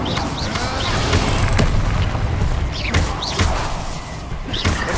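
An Incendio fire spell cast in the video game Hogwarts Legacy, a loud, dense whooshing roar with booming thuds and crackling bursts layered over battle noise and music.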